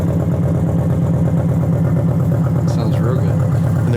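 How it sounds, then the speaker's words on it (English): Harley motorcycle engine idling close by, a steady loud throbbing low rumble throughout, with a brief higher squeak near the end. "You want to run your motorcycle and see if there's any strange noises."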